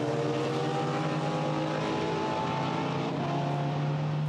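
BMW M3 and M4 GT4 race cars battling at Misano in the GT4 European Series, a loud sustained engine roar with shifting pitch as the cars pass, steady and close.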